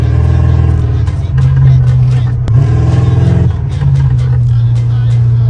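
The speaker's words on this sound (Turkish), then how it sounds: "Telefondan devir bilgilerini uygun bir şekilde bir ses üretip bu sesi de arabanın hoparlörlerinden veriyor" Loud synthetic engine drone generated from engine revs and played through a Honda Civic's speakers, a steady low hum that rises and falls like revving, with a person talking over it.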